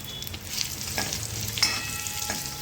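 Homemade paneer fries lightly in oil, a moderate steady sizzle with occasional scraping stirs and a small clink, close and without speech.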